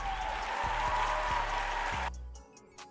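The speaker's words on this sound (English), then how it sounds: "my applause too low" A recorded crowd applause effect rolls steadily at moderate loudness during a live game watch-party stream, then cuts off abruptly near the end, leaving faint noise.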